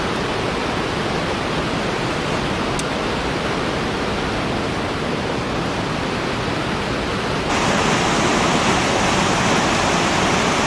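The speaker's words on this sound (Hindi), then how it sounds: "एक तरफ गहरी खाई है जिसमें केदार गंगा नदी बह रही है" The Kedar Ganga river flows through a deep gorge on the Gangotri to Kedartaal trek, a steady, dense roar of rushing water that fills the whole soundscape, loud and unbroken, swelling slightly toward the end.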